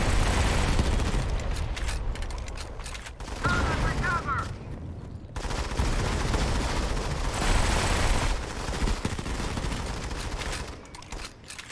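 Dense bursts of gunfire from the Modern Combat 5 mobile shooter, rapid automatic rattling with mechanical clanks, loud and close, broken by brief gaps over about twelve seconds.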